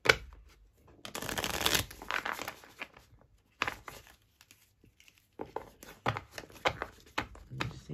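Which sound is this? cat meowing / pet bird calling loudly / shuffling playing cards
shuffling playing cards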